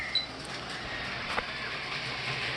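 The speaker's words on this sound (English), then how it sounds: "this train is going to run around the main line for a set number of laps" A model train runs laps around a main line track, giving a steady, low-level rolling clatter with faint clicks and no voices.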